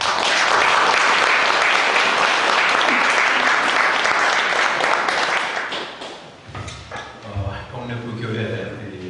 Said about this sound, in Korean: 우리 목사님을 박수로 맞겠습니다